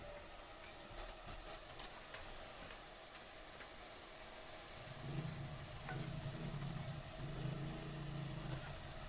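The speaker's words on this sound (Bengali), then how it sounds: "পেঁয়াজটা আমি যে ভাজতে দিয়েছিলাম, পেঁয়াজটা ভাজা হচ্ছে" Soft sizzle of onions frying in a pan, faint and steady, with a few light clinks of a utensil early on and a low hum underneath.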